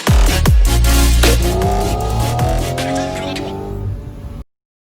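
A McLaren F1 LM arriving nearby, a loud close engine rumble with falling pitch sweeps as it moves past and settles, fading near the end.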